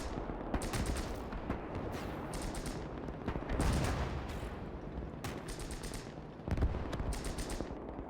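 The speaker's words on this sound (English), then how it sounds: "Double mortar impact." A pair of mortar shells hitting an entrenched German position in a Gates of Hell battle, heavy booming blasts amid steady rattling gunfire, with explosions peaking near the middle and again toward the end.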